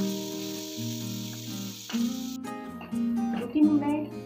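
Onions frying in a pan for Dhaba-style egg tadka, a steady sizzle running under the whole stretch with music layered on top and a few clinks near the end.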